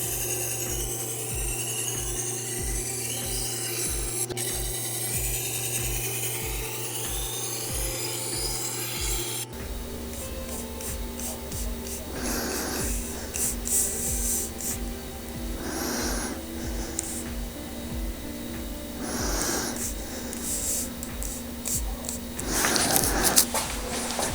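Steel knife edge worked on a Tormek water-cooled sharpening wheel, a steady close rasping and rubbing grind with a faint rhythmic scrape, followed by lighter intermittent strokes, no talking.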